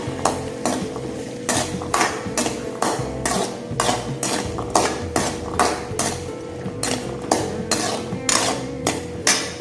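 Small onions stirred in oil in a kadai, with a steady run of sharp metallic spatula scrapes and clacks against the pan repeating in a brisk rhythm over a soft sizzle, close and fairly loud, no talking.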